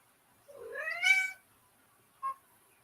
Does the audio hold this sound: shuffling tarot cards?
no